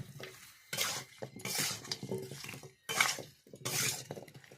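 A pot lid is lifted off simmering village-style chicken curry with potatoes, giving several close metallic clanks and scrapes in bursts, with soft bubbling between them.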